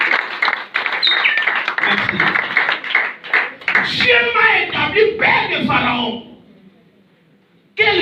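A church congregation at a Sunday service claps and cheers loudly, rapid clapping mixed with shouts and whoops for about six seconds, then fading to near silence.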